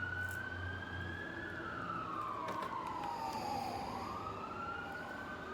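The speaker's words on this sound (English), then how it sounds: "You hear the siren?" A wailing emergency siren sweeps slowly up and down in pitch, steady and fairly distant, over a constant low traffic rumble.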